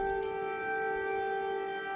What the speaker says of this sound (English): here comes the air raid sirens